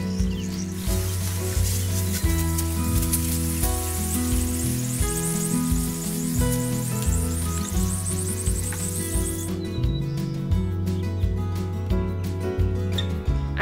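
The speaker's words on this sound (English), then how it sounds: "now I'm going to spray it with aspirin and water" Aspirin-and-water mixture sprayed onto a tomato plant stripped of most leaves after a heat wave in a home garden, a continuous airy hiss lasting about nine seconds over louder background music before stopping.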